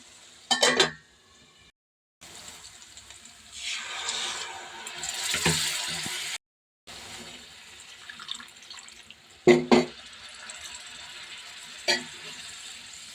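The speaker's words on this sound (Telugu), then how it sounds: "నేను కొంచెం వేసాను వాటర్" Water is poured into a cashew paneer masala curry in a home kitchen, a steady splashing pour lasting a few seconds, framed by brief metallic clinks of a vessel before and after.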